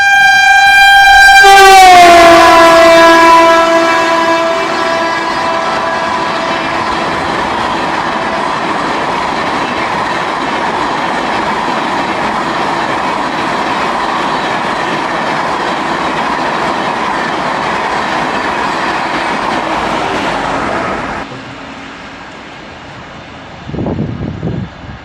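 The new Coimbatore Dhanbad Amrit Bharat Express passes close by, opening with a loud, falling horn blast and followed by a long steady rumble of wheels and carriages that cuts off near the end.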